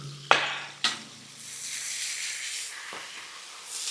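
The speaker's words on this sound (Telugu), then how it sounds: "ఇప్పుడు పుదీనా అనేది వేసుకుందామండి" Fresh mint leaves dropped into a hot pan for mint rice: two sharp clicks, then a soft rising sizzle and hiss of frying, fairly quiet with no talking.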